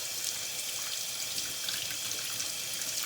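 Tap water runs steadily to rinse dye out of a doll wig, a constant close hiss of flowing water in a sink with no talking.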